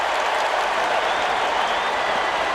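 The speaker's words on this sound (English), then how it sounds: "you've got a crowd this enthusiastic" Crowd cheering fills an arena in the NBA 2K23 basketball video game during a recreated 1992 NBA Finals Game 1, a loud, steady roar of voices and applause that continues without a break.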